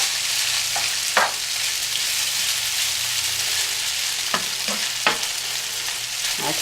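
Homemade noodles fry in oil on a high burner with a steady, loud sizzle throughout, punctuated by several sharp scraping taps of a stirring utensil against the pan.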